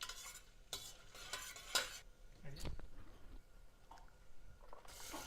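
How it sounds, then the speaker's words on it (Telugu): A utensil stirs cinnamon, bay leaves and cloves in a pan, making close scraping and clinking strokes over a faint sizzle in a home kitchen. "అంతా చక్కగా కలుపుకోవాలి"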